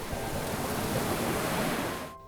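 Sea waves wash in as steady broadband surf with a faint wind edge, filling a children's colour-naming game before cutting off abruptly near the end; no talk during it.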